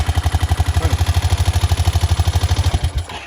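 A Honda engine in an OBS build runs with a loud, close, steady rhythmic chugging pulse for nearly three seconds, then cuts off abruptly.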